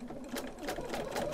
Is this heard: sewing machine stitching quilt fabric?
yes